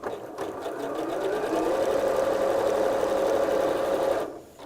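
A sewing machine stitches quilt pieces together in a steady, continuous mechanical whir, close and loud for about four seconds before stopping abruptly.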